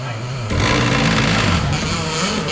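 Dirt kart engines run together at a dirt track, a buzzing high-revving drone that surges louder after a moment and holds steady with shifting pitch.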